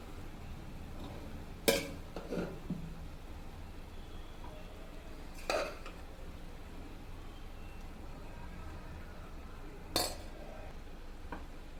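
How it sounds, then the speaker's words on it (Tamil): A spoon stirs cooked rice into brinjal masala in a pan, giving three brief metallic clinks spaced several seconds apart over a faint, low background hum. "ரைஸ் சேர்த்துட்டு அந்த மசாலா எல்லாம் அந்த ரைஸோட கோட் ஆகும்படியாக நல்லா மிக்ஸ் பண்ணி விட்டுக்கோங்க"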